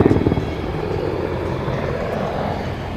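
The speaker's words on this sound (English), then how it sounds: "you can hear that huge rotor blade" Rotor blades of an AH-64D Apache Longbow attack helicopter at a flight demo, a loud steady low thudding chop that stays strong and close for the whole stretch, with no talk over it.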